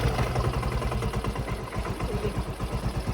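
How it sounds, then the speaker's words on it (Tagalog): A Yamaha Mio i 125 scooter engine idles with worn, damaged pulley bearings, giving a close, steady motor drone with a rhythmic pulsing clatter throughout and no talking. "Narinig nyo nga mga tropa, mukhang basag-basag na yung bola sa loob."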